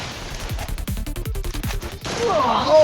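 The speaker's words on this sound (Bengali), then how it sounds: "সৌরভ ভাই হেডশট মারার ট্রাই মারলো।" Gunfire in a one-on-one custom match of a shooting video game: a rapid burst of about a dozen sharp shots in quick rhythm, then a different whooshing sound takes over.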